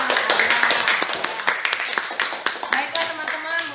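Audience clapping for two presenters in an Indonesian high-school class, a scattered run of sharp claps at close range throughout, with voices talking over it.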